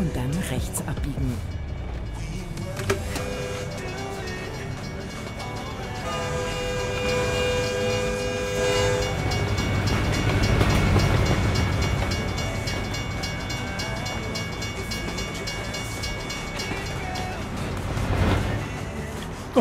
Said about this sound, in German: Oh, Züge.